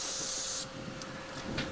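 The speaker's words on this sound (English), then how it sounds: "it's easy to get completely carried away with spraying" An airbrush sprays paint for a ribbon effect, a steady bright hiss that cuts off after a moment and leaves a quieter background, then returns as a few short, fainter bursts.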